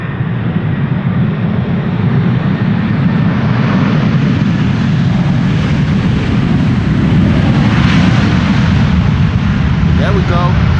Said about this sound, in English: Delta Airlines Flight 74 coming in from Atlanta, Georgia. Another A330-300.